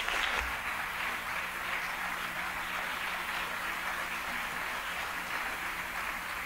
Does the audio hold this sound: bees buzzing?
no